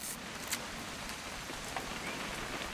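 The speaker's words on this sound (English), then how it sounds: "It's gonna rain the whole weekend," Steady rain falls in What Remains of Edith Finch, a dense even patter of drops on surfaces with a couple of brighter splashes, continuous and unbroken throughout.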